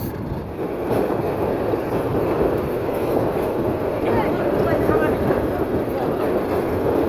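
A train crosses the Titipara rail underpass in Dhaka, a continuous heavy rumble heard from close by, steady and loud with no break.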